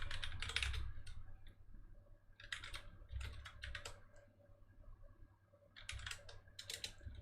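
Typing on a computer keyboard in short bursts of rapid clicks separated by pauses, close and fairly quiet, with no talk.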